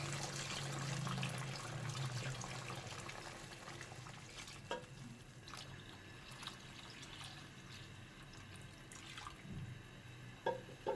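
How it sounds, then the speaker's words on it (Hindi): Water pours and bubbles into a pot of beef nihari with spices, a steady liquid wash that thins out over time, with a few soft clinks and knocks near the end. "अब हम पानी डाल देंगे गोश्त गलने के लिए"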